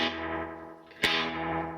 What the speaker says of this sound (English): This thing pops, which I just don't like.